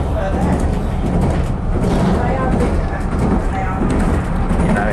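Greater Anglia FLIRT Class 755 train running between Norwich and Lowestoft, a steady loud rumble and rush of the moving train filling the whole stretch without a break.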